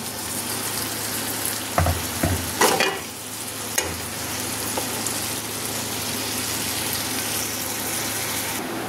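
Prawns frying in a curd, cashew and raisin masala paste, a dense continuous sizzle with a few sharp stirring clatters early on, close and fairly loud, with no talking.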